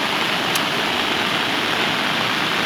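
A strong river current rushes past after heavy rain, a loud, dense, steady roar of churning water with no breaks or voices.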